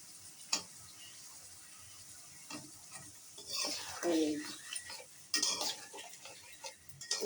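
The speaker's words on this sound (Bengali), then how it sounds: "বেলে মাছ ভুনা করতেছি।" Sand goby fish stir-cooked in a pan, with soft sizzling under scraping and clinking of a spatula against the pan in irregular bursts, nearby and fairly quiet.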